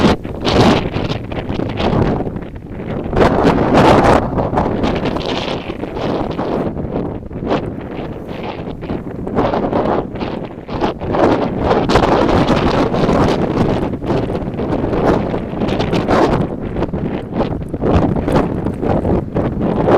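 Wind gusts on a windy August morning walk from the University to the Crescents in Regina, a steady loud roar buffeting the microphone throughout with rising and falling gusts, no talking.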